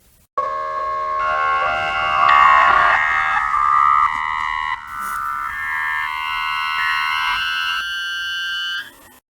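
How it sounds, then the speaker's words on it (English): A shrill, piercing shriek from the fictional Shrillstripe dragon, inflating its noise-amplifying vocal sac and screeching constantly. A loud, sustained buzzer-like tone with stacked harmonics holds for about nine seconds with a brief dip midway. "The Shrillstripe will then inflate the noise-amplifying vocal sac and shriek constantly"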